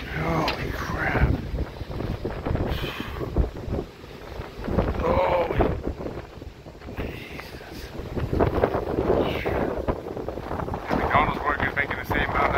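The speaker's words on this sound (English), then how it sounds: "stupid freaking wind I gotta deal with down here." Strong wind buffets an outdoor microphone beside a truck, a loud continuous roar with gusty surges rising and falling throughout, no clear speech over it.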